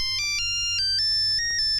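A mobile phone ringtone plays a bright electronic melody of stepped beeping tones, loud and close, with no voices over it.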